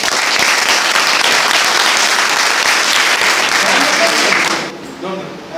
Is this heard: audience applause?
yes